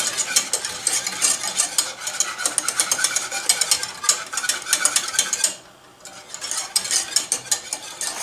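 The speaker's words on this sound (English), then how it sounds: "You want to kind of constantly stir because you don't want the eggs to cook in an egg form." A spoon stirs banana pudding mixture with eggs in a pot, producing rapid, steady scraping and clinking strokes in a continuous rhythm, broken by a short pause before the stirring resumes.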